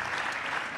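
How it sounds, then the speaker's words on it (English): Congregation clapping hands in unison during a church worship service, a dense steady wash of applause filling the whole moment, close and loud, with no talk over it. "Would you clap your hands unto the Lord?"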